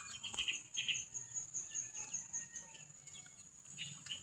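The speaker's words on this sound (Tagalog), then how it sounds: "Ayan, may manok dyan." Chickens on a farm make faint, scattered chirps and short calls, distant and quiet, with rustling background noise and no talk.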